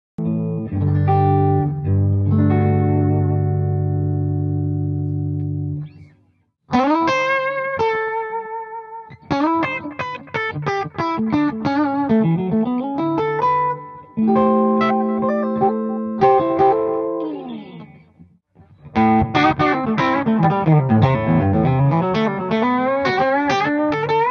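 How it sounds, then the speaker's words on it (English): A PRS bolt-neck electric guitar with humbucking and single-coil pickups and a 5-way blade switch rings out in held chords and quick melodic runs, loud and close, with effects and reverb and brief pauses between phrases. "Moving the 5-way blade switch yields a tremendous number of tones."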